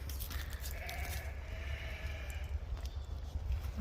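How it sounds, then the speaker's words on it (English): Sheep and young lambs on a farm property bleating in a fairly faint, drawn-out way over a steady low rumble of background noise, with no talking. "The sheep are crazy."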